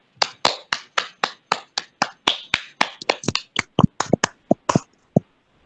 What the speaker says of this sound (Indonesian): kita beri aplaus untuk kelompok 3